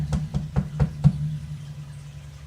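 Five evenly spaced knocks on wood, sharp and close, rising slightly in force, followed by a quiet stretch with faint room noise.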